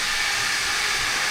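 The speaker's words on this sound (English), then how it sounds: "We've got a leak on the manhole." Pressurized water and steam hissing steadily from a leaking manhole on a Victorian boiler under hydraulic test, a loud continuous broadband spray with no break.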